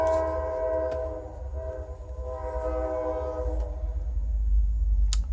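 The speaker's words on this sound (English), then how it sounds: "Waiting for the train to pass." A passing train sounds a loud, sustained multi-tone horn as it rolls by with a low rumble, the horn easing briefly before blaring again.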